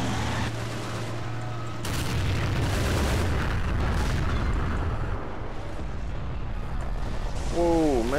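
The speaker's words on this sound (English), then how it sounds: "Whoa, massive explosion." A massive explosion in the World War II strategy game Men of War: Assault Squad 2: a loud, sustained rumbling blast with crackling debris that fills the whole stretch, followed by a rising whistling tone near the end.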